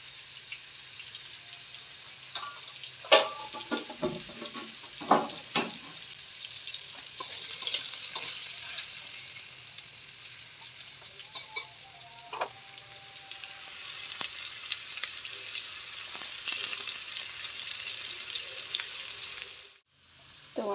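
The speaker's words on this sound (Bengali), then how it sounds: "তো আলুটা লাল লাল করে ভাজা হয়ে গেছে" Potatoes frying with turmeric in a pan for biryani. A steady, moderately quiet sizzle continues throughout, broken by frequent scrapes and clinks of stirring, with no talking.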